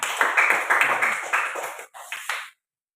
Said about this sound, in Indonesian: silakan tepuk tangan kembali ke belakang